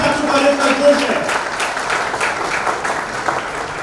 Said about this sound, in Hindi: दोस्तों हमारी प्रिंसिपल मैडम डॉक्टर मिसेस शैताली चक्रवर्ती के लिए जोरदार तालियां होनी चाहिए।